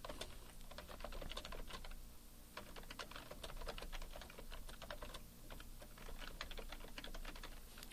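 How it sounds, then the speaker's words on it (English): Steady, rapid keystrokes on a computer keyboard while text is entered in a web page design program, close and continuous with brief pauses between bursts, no voices. "if you start to type text in this design view"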